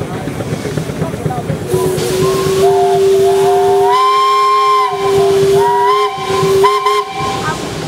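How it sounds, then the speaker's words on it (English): A steam traction engine whistle blows loud and close during a parade, a long sustained multi-tone blast with brief breaks and hissing steam throughout. "Andy, you got a whistle."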